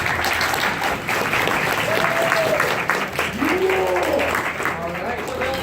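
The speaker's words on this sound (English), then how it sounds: "Everyone give a round of applause." Applause from a convention audience at an MLP con fills the room steadily, a dense wash of clapping and crowd noise with some talk and a few whistles over it.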